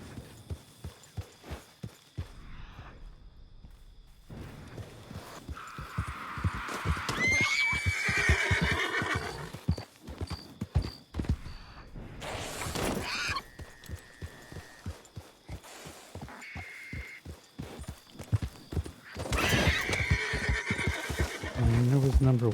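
Red Dead Redemption 2 gameplay of a rider on horseback, with repeated clip-clop hoofbeats at a walking pace throughout and several loud horse neighs and whinnies, plus someone talking over parts of it.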